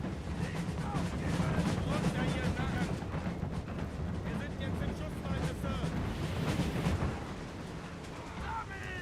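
Musket volleys from massed troops in a Napoleon: Total War battle at a bridge, a dense continuous crackle of gunfire and booming rumble running for several seconds, with a voice speaking over the din.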